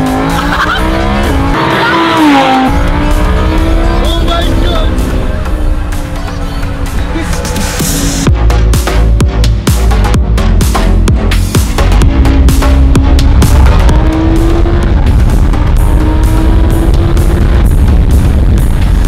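Lamborghini on a race track, its engine roaring loud and close from onboard with rising and falling revs through gear changes, tires squealing in long skids through the corners.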